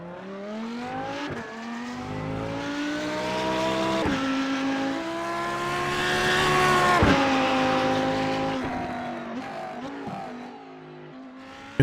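Video game car driving after a crash test, its engine revving up and down through gear changes with rising and falling pitch, a brief tire squeal, steady and fairly loud.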